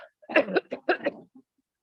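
A single person coughs several times in quick succession, close and clear, followed by silence.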